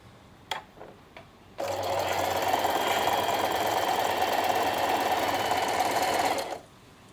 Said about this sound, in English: I just start sewing, and at the end I sew over the start again